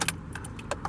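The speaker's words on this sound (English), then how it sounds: "Stepping in, go ahead and insert the key right here," Keys jangle briefly as a key slides into the ignition of a 2010 Chevrolet Tahoe, a few quick metallic clinks up close.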